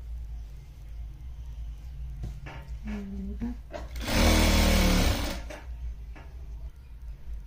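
A sewing machine stitching a strip of lehenga fabric, a loud steady mechanical whir for about a second mid-clip, with quieter handling noises and a dog whimpering before it.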